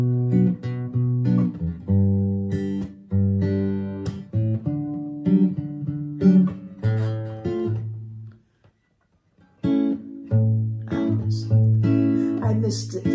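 A Bm11 chord on electric guitar played through a Yamaha THR5A amp, strummed and picked in repeated sustained phrases with a brief pause midway, clear and close.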